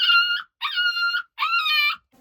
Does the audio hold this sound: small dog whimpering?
yes